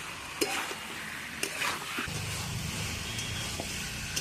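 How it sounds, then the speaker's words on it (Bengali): Chicken pieces sizzling as they are fried and stirred in spiced masala for chicken kosha, with a continuous close sizzle broken by a few sharp spatula scrapes and knocks against the pan. "মশলাটার সঙ্গেও চিকেনটা বেশ সুন্দর করে কষে নিচ্ছি"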